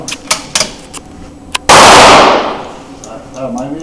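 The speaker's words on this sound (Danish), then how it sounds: "Så tager du den ikke, og så skyder du." A single loud gunshot from a shooting session bursts out sharply and decays over about a second, after a few quieter clicks and knocks, with faint background talk.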